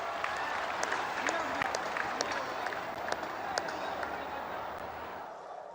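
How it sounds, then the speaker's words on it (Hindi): A large crowd at an outdoor political rally in Assam claps continuously, a dense, sustained patter of applause heard from amid the audience, with some voices under it. "हो जाए ताली आज आपके नाम पर"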